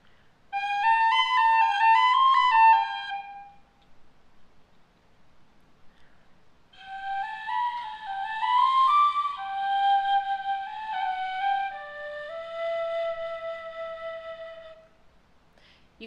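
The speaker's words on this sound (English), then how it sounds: "To make the sound more airy, you can put a small piece of paper in the windway." A breathy tin whistle with a small piece of paper in its windway plays two short melodic phrases, the airy, slightly buzzy tone standing alone with a brief pause between them.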